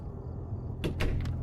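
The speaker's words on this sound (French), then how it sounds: "Il y a des portes qui s'ouvrent et qui se ferment." Door in the horror game Fears to Fathom opening or closing, a pair of sharp close clunks followed by a fainter knock over a low steady background hum.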